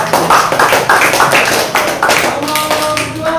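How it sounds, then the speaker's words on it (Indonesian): Classroom group of people clapping for a group of students, with brisk, slightly uneven hand claps close by over a few seconds. "Tepuk tangan dulu buat kelompok 1."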